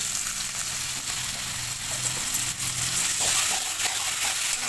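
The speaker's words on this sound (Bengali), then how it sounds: "এবার দিয়ে দেবো পরিমাণ মতো একটু জল দিয়ে দিচ্ছি" Cabbage and peas frying in a pan as water is poured in, producing a loud, continuous hissing sizzle that fills the whole stretch without pause.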